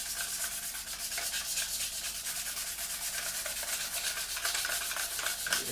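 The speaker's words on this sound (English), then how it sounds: "Polish out those scratches" A scratched plastic part from an Italeri 1/48 Seahawk model kit is polished by hand, making a steady close-up rubbing hiss that continues evenly without breaks.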